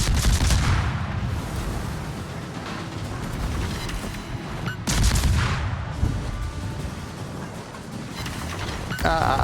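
Warship guns fire in the naval game World of Warships, with heavy continuous booming salvos and rumble, and a couple of louder bursts standing out from the din.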